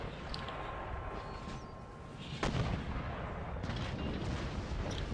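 Artillery cannons bombarding a fortress wall in an Empire: Total War siege, heard as a dense rumbling battle din with a sharp cannon crack standing out midway and continuous booming gunfire beneath.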